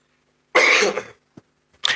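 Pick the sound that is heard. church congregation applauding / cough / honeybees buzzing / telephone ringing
cough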